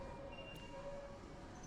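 Quiet, distant hum of a Minsk metro train with faint tonal whines and a light rumble, steady and low in level, no talk.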